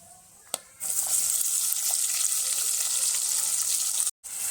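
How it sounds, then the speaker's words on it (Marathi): Sliced onion dropped into hot oil for prawn biryani, a sudden loud steady sizzle after a brief clink, continuing close and even, then cut off briefly at the end. "आता आपण उभा चिरलेला कांदा घालून घेऊ"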